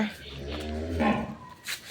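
Dairy cows on a Gazipur farm where a pair of high-breed milking cows with calves are being sold; one close, loud drawn-out moo with a rich harmonic tone fills most of the moment, followed by a brief fainter call.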